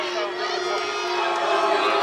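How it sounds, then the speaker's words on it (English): Boxing arena crowd at a Richard Rivera vs Joe Jones bout, a loud, sustained mass of voices booing and jeering in disapproval, steady throughout and swelling slightly toward the end. "Crowd, obviously, not fans of that"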